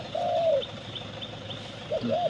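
A dove's soft, rolling coos, two short calls separated by a pause, close by over steady outdoor background noise.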